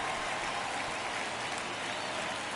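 Crowd applause from a baseball video game, MLB The Show 23, a steady wash of clapping and cheering filling the stadium at Wrigley Field, continuous and even throughout with no pauses.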